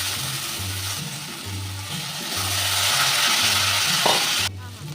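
Masala, potatoes and a little sugar are sautéed in a pan under a steady, loud sizzle that swells midway, while a low rhythmic hum pulses underneath; near and continuous, with no talking.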